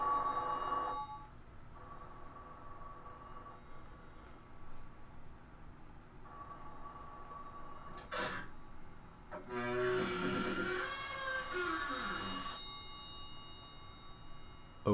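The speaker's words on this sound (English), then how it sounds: "Is that a telephone?" A telephone rings faintly inside Silent Hill 3, with a few spaced electronic rings over quiet game ambience, followed near the end by a brief louder burst of other game sound.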